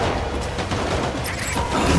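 Gunfire in Death Stranding, a dense, loud barrage of overlapping shots and impacts that runs without a break across the whole span.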